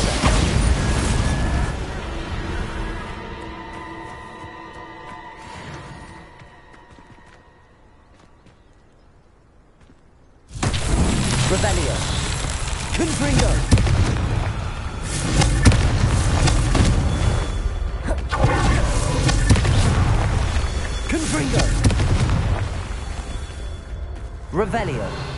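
Bombarda spell explosions from the Hogwarts Legacy video game: after a quiet stretch, loud booming blasts and crackling game effects burst in and keep going densely, layered over music and other in-game sound.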